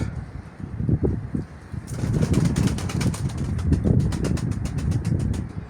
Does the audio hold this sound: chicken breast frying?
no